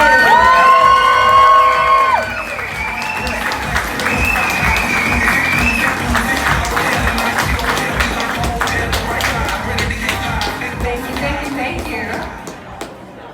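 A lively stand-up comedy audience at the Blue Note cheers, whoops and applauds continuously, loud and full throughout, with scattered shouts rising above the clapping.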